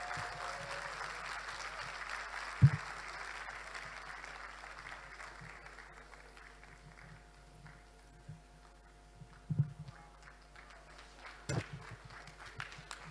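An audience applauds at a women directors conference, a broad wash of clapping that is strongest at first and fades over several seconds into a quiet hall with scattered knocks and small noises.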